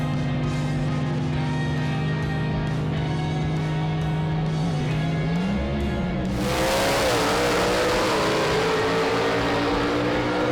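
A gasser drag race car with a 477 cubic inch engine: a steady loud engine drone that surges near the six-second mark into a harsh, roaring launch with rising pitch, continuous and close.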